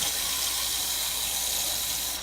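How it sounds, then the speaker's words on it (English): Tap water runs steadily into a sealable plastic container for soaking canary seed, a continuous close hiss and gush with no speech. "You're going to fill it up with water."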